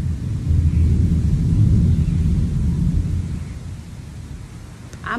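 Thunderstorm rumble, with a deep, continuous low roar that swells and slowly fades over several seconds, fairly loud, with wind noise and no talking.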